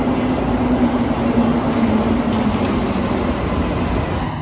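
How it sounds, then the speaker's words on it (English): A Montreal Metro train rolls into a station, rumbling steadily and loudly close by, with a low droning hum and rolling rail noise throughout, no voices. "When the train rolls in"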